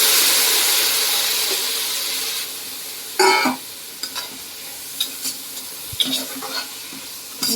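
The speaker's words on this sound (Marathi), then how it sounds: "हे आपण जे धुवून ठेवलेले वाल आहेत ते आपण टाकूया" Washed val beans tipped into a hot pan of sautéed tomato and stirred, giving a steady sizzle and hiss with scraping stirs and clinks, close and with no talk.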